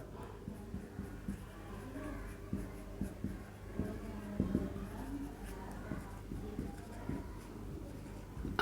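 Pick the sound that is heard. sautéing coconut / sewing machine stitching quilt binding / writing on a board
writing on a board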